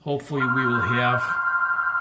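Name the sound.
telephone ringing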